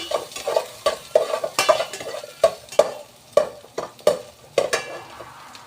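Chicken and ginger being sautéed and stirred in a pot for tenolang manok, with a steady sizzle under repeated scraping stirs of a utensil against the pot, about two strokes per second, close and clear.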